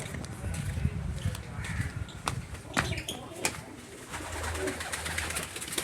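Pigeons coo low and soft nearby, mixed with scattered wing flaps and small clattering noises.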